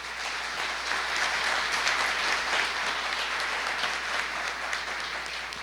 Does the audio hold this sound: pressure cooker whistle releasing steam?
no